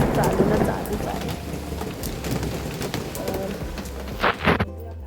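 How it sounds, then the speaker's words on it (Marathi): Steady rain falls at home overnight in a broad, even hiss, with a few brief sharper sounds near the end. No one speaks. "काल रातपासून पाऊस चालूच आहे"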